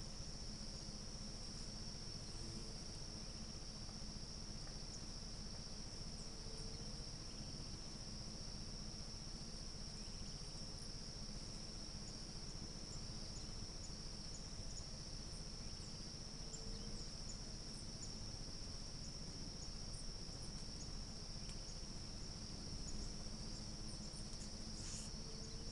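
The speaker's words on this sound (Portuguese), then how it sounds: "Ouçam só o zumbido das abelhas." Thousands of bees of many kinds, stingless bees among them, swarm around a flowering breu tree in open pasture, giving a steady, faint buzzing hum that holds evenly throughout, mixed with insect chirring and no talk.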